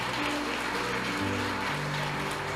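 A church congregation at a Baptist service applauds steadily for the Lord, a dense continuous wash of clapping from a large crowd at an even level, with a faint musical tone sustained underneath.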